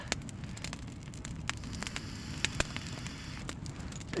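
Campfire crackling near a hut, steady hiss of flames with frequent sharp pops and snaps, close and fairly quiet with no talk.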